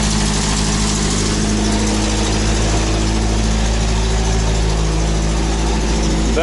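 A UAZ engine idles loudly and steadily right after starting on a new 75 Ah battery, a constant close low rumble with no talking.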